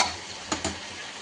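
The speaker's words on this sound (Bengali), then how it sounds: "কষা হচ্ছে, তেল বেরিয়ে গেছে।" Meat and spices sautéing in oil in a pan give a steady, faint sizzle, broken by two quick scraping stirs near the middle.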